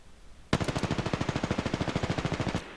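Automatic weapon fire in Apex Legends, one sustained burst of about two seconds of rapid, evenly spaced loud shots that starts sharply and cuts off cleanly, with no voices.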